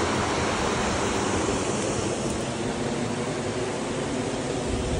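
Steady broadband rush of river water flowing continuously, close and fairly loud, with no voices over it.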